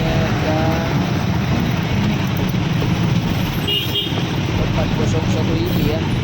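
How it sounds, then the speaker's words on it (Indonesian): A Putra Jalan intercity bus cruising on the road, heard as a steady, loud, unbroken roar of engine and tyre noise with no letup throughout. "Ini bus putra jalan Naslo."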